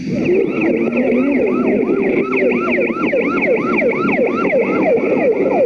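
An ambulance siren wails loud and close in a fast repeating up-and-down cycle, unbroken for several seconds in the aftermath of the Kent State shooting.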